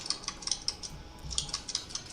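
Computer keyboard keys clicking in quick, irregular bursts during a Castle Crashers game session, close and crisp with no talking.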